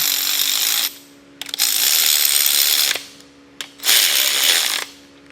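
A hand power tool runs main cap bolts into a two-bolt-main big block engine during a rebuild, making loud whirring bursts that stop and restart about three times, with no talk.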